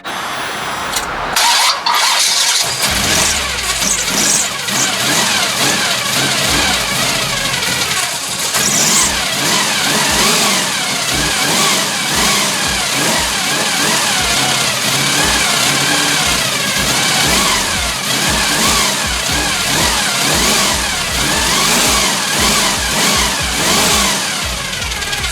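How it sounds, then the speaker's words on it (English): A 355 engine fitted with a Holley 650 double pumper carburetor cranks, fires and settles into a loud, rough idle punctuated by repeated throttle blips and revs, close by throughout. "let me fire it up so you guys can check it out"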